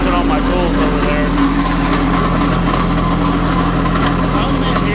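A light tower generator engine runs steadily at a loud, constant level, with a continuous hum and droning mechanical tone throughout and no pauses.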